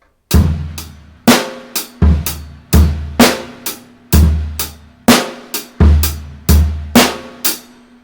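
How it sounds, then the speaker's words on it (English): A solo drum groove: punchy kick and snare hits with ticking hi-hat in a steady, slightly syncopated pattern, sixteenth notes on the bass drum between straight eighth hi-hats, snare on 2 and 4, close and loud, no voices. "on the bass drum in between the hi-hat notes"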